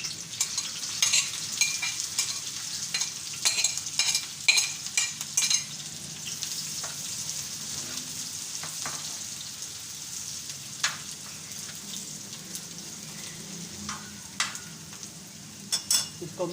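Onions dropped onto a hot oiled tawa for a kalaji dish, crackling and sizzling steadily with frequent scraping and stirring clicks of a spatula, fairly close, no talk.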